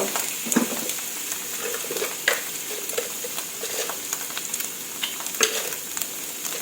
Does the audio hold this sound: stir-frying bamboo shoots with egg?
yes